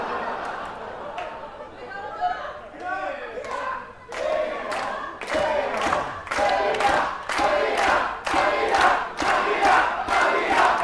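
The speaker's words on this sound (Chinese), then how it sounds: "要求观众欢呼，没想到观众欢呼的阿基拉声音反而比较大" Crowd at a professional wrestling show with a 51-year-old wrestler in the ring, a roaring audience building into loud rhythmic chanting and clapping under a commentator speaking over it.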